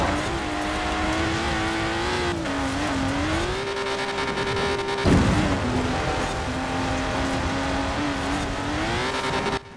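Sports cars racing in Forza Horizon 4, a steady loud engine drone rising and falling in pitch through gear changes, with a brief jolt midway and no talking.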